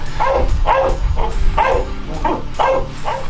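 A shepherd dog at search and rescue training barks repeatedly in a steady rhythm, loud and close, roughly seven sharp barks with short gaps, over a low background rumble and no talk.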